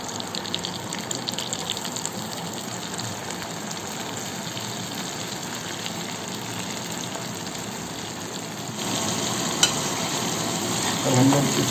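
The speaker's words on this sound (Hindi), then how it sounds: "अब हम लोग इसको डीप फ्राई करके निकाल लेंगे" Coated chana chickpeas deep frying in hot oil for chana chili, giving a steady, even sizzle and bubble throughout, close and alone, slightly louder toward the end.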